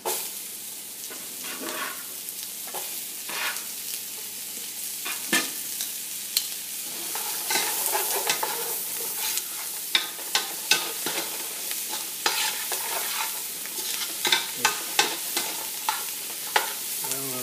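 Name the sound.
celery frying and being stirred in a pan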